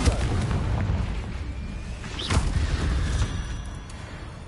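A Confringo fire spell blasts in Hogwarts Legacy, landing as a boomy explosion near the middle of a steady rumbling backdrop of game effects, with no voices.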